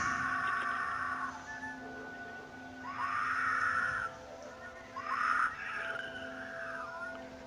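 A woman screams for help outside a house, picked up by a doorbell camera: three long, wavering cries at a distance, each lasting about a second or more, over steady background hum.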